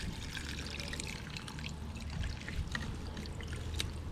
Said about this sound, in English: I'm just gonna pour all this water into the net.